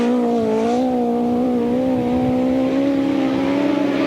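Grasstrack racing motorcycle engines from a 600 cc meeting in 1992 scream continuously at high revs, a loud steady whine that rises and falls slightly as the bikes hold the throttle through a turn.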